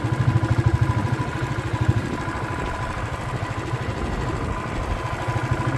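Motorcycle engine running steadily up close on a hilly road, with a rapid pulsing thrum that shifts in tone as a gear is changed without the clutch.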